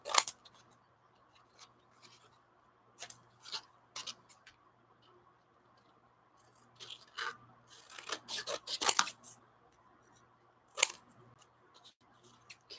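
Scissors snip through a paper napkin in short, sharp bursts, several quick cuts clustered with quiet gaps between, close and fairly faint against a soft background hum.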